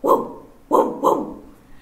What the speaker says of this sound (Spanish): ¿Cómo hace el perro?